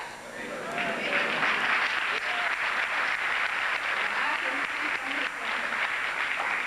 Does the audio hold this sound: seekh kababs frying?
no